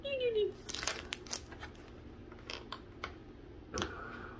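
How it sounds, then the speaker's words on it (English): Pokemon card packs crinkle and rustle as they are shuffled and mixed by hand, a few sharp plastic crackles close up, with a voice speaking at the start. "I'm mixing up the packs so she can't see which one"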